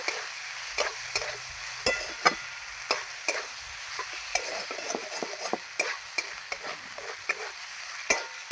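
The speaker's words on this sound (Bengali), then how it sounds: "এবার আমি পটলগুলো দিয়ে দেবো পটল দিয়ে আমি আবার ভালো করে নাড়াচাড়া করে নেব" Pointed gourd being stirred into frying spice masala in a pan, with repeated scrapes and stirring strokes over a steady bright sizzle of hot oil, close and fairly loud, no voices.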